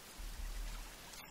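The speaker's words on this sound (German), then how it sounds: "Ach, es regnet wieder, sehr gut." Rain falling in the survival video game The Forest, a soft, quiet wash of steady patter with no voices.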